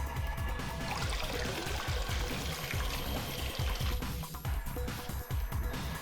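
Water pouring into a container in a puzzle game, a continuous loud gushing fill with bubbling pulses, heard alone without talk.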